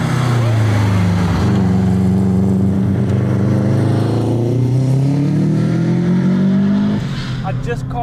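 A 450-horsepower 2007 Subaru WRX STI on Toyo 888R tires accelerates hard, its loud, close engine note climbing steadily in pitch through a long pull before easing off near the end.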